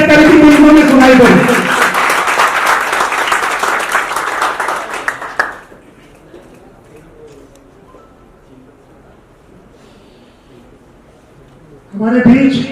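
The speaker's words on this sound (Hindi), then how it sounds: "मैं तो चाहूंगा कि एक जोरदार तालियां इससे करीबी मुल्कों में सुनाई दे।" A crowd at a Bhojpuri community event claps loudly in honour of Dev for about five seconds, then it cuts off abruptly into near silence before a loud burst returns at the very end.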